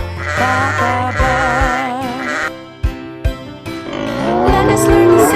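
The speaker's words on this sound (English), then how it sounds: "The sheep goes ba, ba, ba, ba." A sheep bleats repeatedly among farm animal sounds, loud and close, with a steady wavering bleat running through most of the clip over a busy background.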